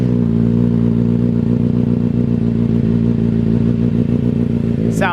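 A 2024 Kawasaki ZX-6R on a dyno, catalytic converter removed and slip-on exhaust fitted, holds a loud, steady, throaty idle up close, ending with a brief sharp rise.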